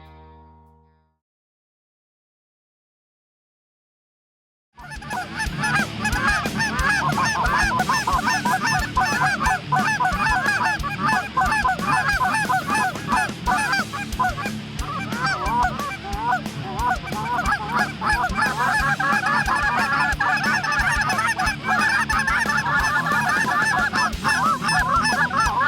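Cackling geese honk in a large flock, a dense continuous chorus of overlapping high yelps and cackles, loud and close, starting after a few seconds of silence and running steadily to the end.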